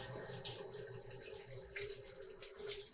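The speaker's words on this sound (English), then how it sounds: "You want to rinse them real good and thoroughly kind of use your fingers to rub the leaf." Tap water runs steadily into a sink as lacinato kale leaves are rinsed and rubbed under it, giving a constant close hiss with small splashy fluctuations.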